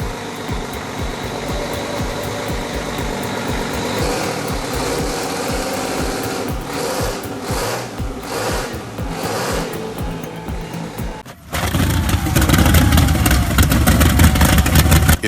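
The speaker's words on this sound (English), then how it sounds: "This V6 two-stroke engine is built to deliver steady performance even in tough conditions." A V6 two-stroke engine runs with a dense, loud mechanical clatter, then cuts abruptly into a rougher, louder and steadier roar that holds to the end with no pauses.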